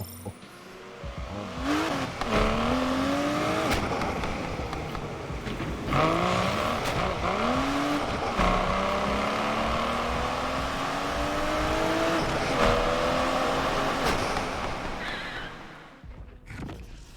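Nissan 400Z in the racing game Need for Speed Unbound, its engine revving loudly and continuously through repeated rising pulls with gear changes, a sustained close roar that fades out near the end.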